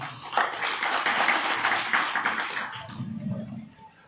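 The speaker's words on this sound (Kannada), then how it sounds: "ಜೋರಾದ ಚಪ್ಪಾಳೆ" Loud applause from an audience at a spiritual gathering, a dense burst of many hands clapping close by that fades out after about three seconds, leaving a faint low murmur.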